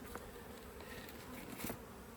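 Honey bees buzzing at a weak spring beehive opened for inspection after smoking, a faint, close, steady hum with a few louder passing drones and no talking.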